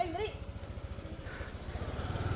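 Yamaha scooter being test driven after a ball race bearing replacement, a steady close engine drone with a rhythmic pulsing putter that builds slightly toward the end, with voices talking over it.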